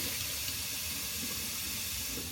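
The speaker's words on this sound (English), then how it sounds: "then I'm going to fill it up the rest of the way with hot water" Hot water running from a tap into a container, a steady, close rushing and splashing stream that holds at one level the whole time with no talking.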